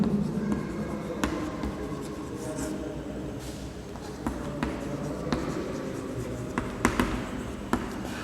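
Writing on a board: continuous scratchy strokes with occasional sharp taps, close and steady for the whole stretch, with no clear talk.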